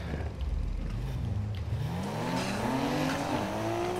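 A car driven in the racing game Need for Speed Heat, its engine revving and climbing through gears, a loud rising whine over a low rumble with faint tire noise, no talking.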